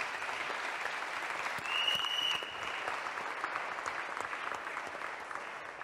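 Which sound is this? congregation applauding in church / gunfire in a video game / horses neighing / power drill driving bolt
congregation applauding in church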